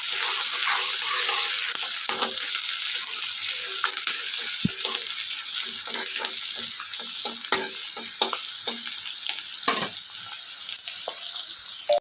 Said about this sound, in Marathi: परतून घेऊया चांगलं